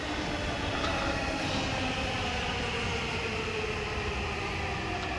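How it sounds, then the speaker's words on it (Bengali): A metro rail train arrives with a steady, loud rumble and broadband rail noise that holds evenly throughout, with no voices. "আমরা আরেকটা একটা মেট্রো রেল আসলো দিক দিয়ে"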